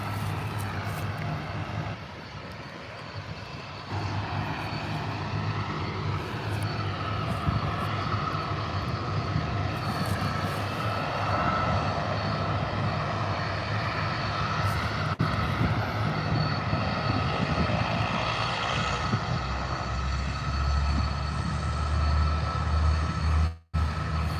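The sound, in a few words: Bombardier Q300 turboprop aircraft engines spooling at airport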